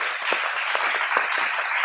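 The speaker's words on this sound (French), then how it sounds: "on peut vous applaudir" Audience applause from a live French-language event panel, steady broadband clapping sustained throughout at a moderate distance, with no talk over it.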